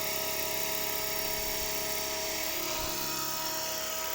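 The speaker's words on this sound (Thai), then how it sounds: "เพื่อความปลอดภัย รอให้ หมุนสุดเสียง ฟังนะฮะ สุดเสียงแล้วใช่ไหมครับ" A size-500 RC EC135 model helicopter with its rotor wound up to full speed, giving a loud, steady, high-pitched whine with a constant buzzing hum, close by and alone with no talk.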